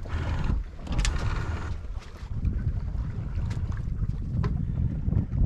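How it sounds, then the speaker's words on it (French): A sailboat under sail at night in light wind of about four knots, heading toward the bay of Douarnenez against the current, with steady wind rumble and soft water rushing along the hull, close and continuous, without talk. "on avance sous voile, 4 nœuds de vent"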